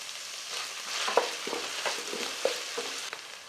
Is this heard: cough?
no